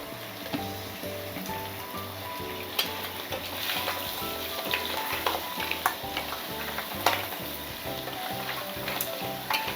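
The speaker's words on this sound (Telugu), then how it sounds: "వేసుకొని మంచిగా కలుపుకొని ఒక 2-3 నిమిషాలు మంచిగా ఆయిల్లో మగ్గనిద్దాం" Onion paste and ginger-garlic paste frying in oil for a crab curry, a steady close sizzle with rhythmic stirring scrapes and occasional sharp clinks throughout.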